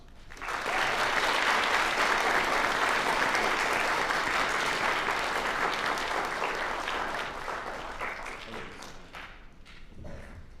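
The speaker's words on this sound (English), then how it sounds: "Let's give them a round of applause." Family, friends and students at a National Honor Society induction ceremony applaud the standing inductees with full, sustained clapping from a large crowd that swells quickly, holds strong, then tapers off into scattered claps.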